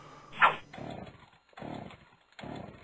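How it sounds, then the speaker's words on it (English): A chainsaw in the video game Whack Your PC, heard as three or four separate revving bursts with short silent gaps between them, the first burst the sharpest and loudest. "Chainsaw?"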